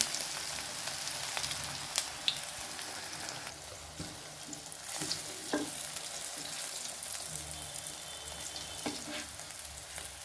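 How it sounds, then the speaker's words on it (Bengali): Food fries in hot oil while pieces are turned from side to side until lightly browned. A quiet, even crackle runs throughout, broken by a few faint clinks and scrapes of turning and no speech. "এপিট ওপিট করে ভেজে নিচ্ছি লাল লাল করে, হালকা লাল"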